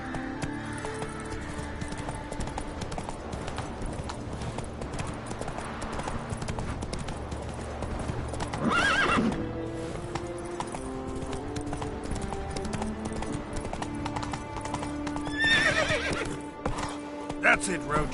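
Roach, a horse in a video game, trots along with rhythmic clip-clop hoofbeats and gives two loud neighs. Background game music and a voice run underneath.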